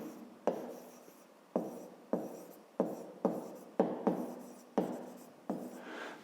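Pen or pencil writing by hand on paper while solving a fifth-grade math exercise, a close, steady run of scratchy strokes broken by several sharp taps as each new line or word begins, with no voices.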